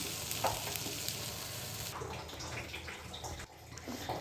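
Potatoes with spices sizzle and fry in a pan for a cauliflower dish, a steady loud crackle with stirring scrapes and a watery hiss, no talking.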